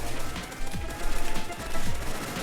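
Kalashnikov rifle fire in the Roblox game Military Tycoon, rapid bursts of loud automatic shots in short strings with pauses between, close and with no voice.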